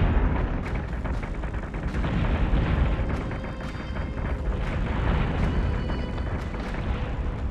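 Explosions from a corvette blowing up in the space battle game Battlestar Galactica Deadlock: a dense, continuous rumble of booms and blasts with repeated sharper bursts, loud throughout with no talking.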